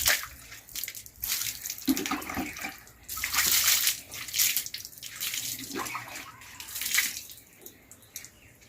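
Water splashes and pours over a German shepherd being soaked before a shampoo bath, a close, irregular spray with bursts of wetter hissing and no talk.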